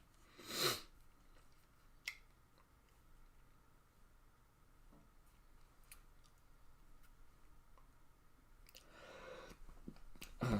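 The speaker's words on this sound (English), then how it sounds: "Sneezing fit, that's not what we need." A sneezing fit during a Golf Clash tournament session: one sharp sneeze near the start, a small click, then another burst of sneezes and snorts toward the end, over a quiet room.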